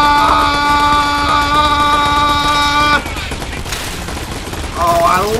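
Turret gunfire in Borderlands 3 pounds in dense, overlapping bursts after a sustained humming tone, loud and close, with brief voice sounds near the end.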